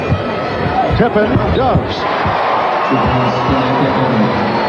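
Basketball arena crowd during a 1997 NBA playoff game between the Bulls and Hawks, a loud roaring hum urging a player to shoot, with sneaker squeaks and ball bounces underneath and a commentator talking over it.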